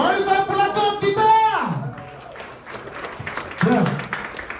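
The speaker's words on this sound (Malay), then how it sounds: "Dan satu tepukan yang paling gemuruh untuk barisan pelakon kita" At a press conference for a drama, a crowd applauds the cast with a steady wash of clapping after an announcer's voice.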